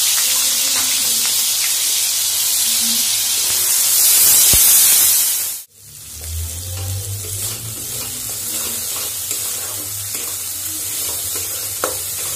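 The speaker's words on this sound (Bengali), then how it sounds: "পেঁয়াজটা ভালো করে ভেজে তারপর অন্য মশলা দেব।" Onion paste fries in a pan with whole cumin, giving a loud, close sizzle and hiss that swells, then cuts abruptly before settling into a steadier spitting fry with faint stirring.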